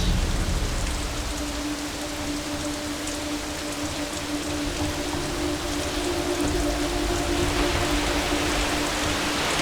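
Heavy rain pours down steadily outdoors during a cooking competition's plating, a dense continuous hiss of drops hitting surfaces, close and loud, with no talking.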